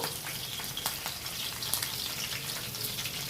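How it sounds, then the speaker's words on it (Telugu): Cumin seeds crackle and sizzle in hot oil, quiet and steady with scattered sharp pops, while a spicy raw prawn curry is being made. "జీలకర్ర వేసుకున్నాక జీలకర్ర కూడా చిటపట అన్నాక"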